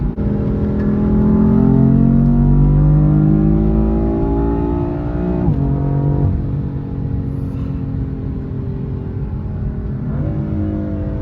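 A BMW M4 engine revs up and down close by, rising and falling in pitch with a couple of quick throttle blips, no talking.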